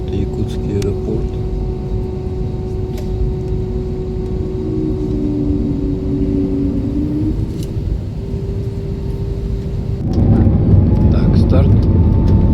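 Inside an S7 airliner during takeoff from Yakutsk airport, a loud, steady low engine roar fills the cabin, rising and growing heavier toward the end as the jet accelerates, with brief talk over it.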